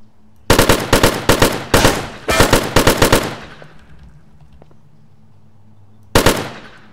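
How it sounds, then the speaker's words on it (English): AK rifle fire in a video game: several loud, close rapid-fire bursts of sharp cracks with short gaps, a quiet stretch with a faint ringing tail, then one more burst near the end, with no talking. "we're whipping out the AK"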